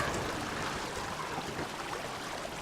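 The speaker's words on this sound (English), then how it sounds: "the water is flowing through" Water streaming steadily through a channel inside a mine workroom in the game Obduction, a broad continuous rushing wash with no pauses, fairly close and alone.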